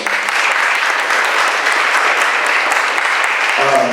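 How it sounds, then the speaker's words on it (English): Loud, dense audience applause at a mayor's forum, a continuous roar of clapping that runs throughout, with a voice starting to speak just at the end. "Yes, let's give her a round of applause."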